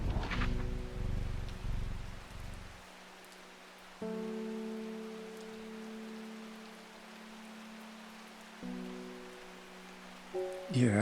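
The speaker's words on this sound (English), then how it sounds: "It's raining again." Steady rain patter with a soft hiss, fairly quiet, plus faint tonal hums that come and go in the background.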